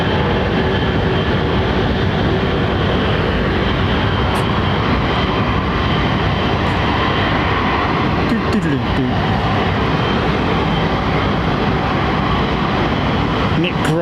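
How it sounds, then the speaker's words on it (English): A British Airways Boeing 787-10 jet at London Heathrow gives a loud, sustained roar of engine noise that fills the whole stretch, with a voice speaking over it. "One of BA's 787 super stretch 10s here."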